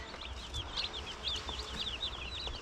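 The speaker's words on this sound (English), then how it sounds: "these are called white rocks. So these are the white meat chickens" White Rock fast-growth meat chickens clucking and chirping steadily in a small flock, a busy layer of short, high, overlapping calls at moderate distance with no talk.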